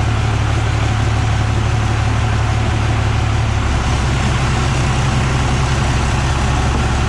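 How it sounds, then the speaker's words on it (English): A Ford Galaxie engine with a homemade nitrous system idles steadily at about 700 RPM on a dyno, a loud, continuous low rumble that holds constant throughout with no voices. "Idling at like 700 RPM right now."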